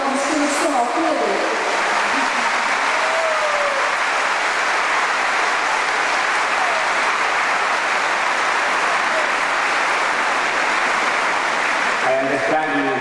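Sustained audience applause in a large hall at a Fátima gathering, thanking the sound operator, a broad continuous roar of clapping lasting many seconds, with brief voice fragments at the start and end.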